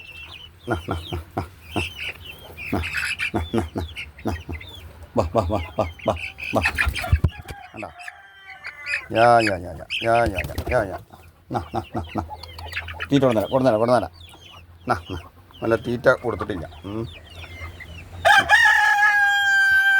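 Fayoumi hens and country chickens on a home poultry setup cluck repeatedly, with a rooster crowing near the end, all under steady conversational talk close by.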